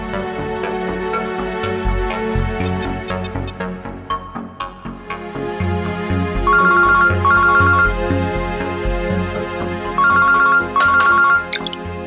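A telephone ringtone plays loudly in repeated melodic bursts over a dramatic music score, with the ring phrases recurring in short paired groups toward the end.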